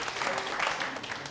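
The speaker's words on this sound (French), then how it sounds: "Merci de l'applaudir." Studio audience on a French-language television entertainment show clapping to welcome a guest, a brief, moderate burst of mixed hand claps in a room.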